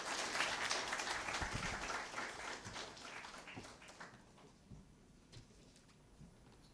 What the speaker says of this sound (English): I will request everyone to welcome him with big round of applause.